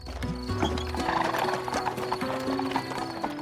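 Horses clip-clop at a steady trot while pulling a carriage, hooves knocking rhythmically and close, with a horse whinnying partway through over background music.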